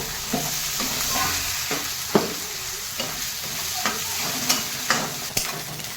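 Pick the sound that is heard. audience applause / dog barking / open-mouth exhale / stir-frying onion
stir-frying onion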